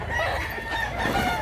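A handsome two-year-old fighting cock for sale crows once, loud and close, a drawn-out call filling the moment with little else around it.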